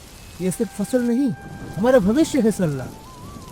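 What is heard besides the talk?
torrential rain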